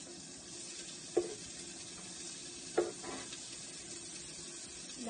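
Onions and meat frying in a pan give a steady, close sizzle and hiss, broken by two brief louder bursts as more food or a stir hits the hot oil.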